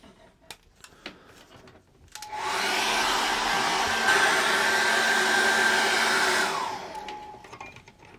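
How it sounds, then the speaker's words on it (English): A hairdryer blows over fresh acrylic paint on a landscape canvas, a steady loud whoosh with a faint whine switching on after a couple of seconds, running about four seconds, then cutting off, with small taps and rustles before and after. "I'm going to dry that with a hairdryer."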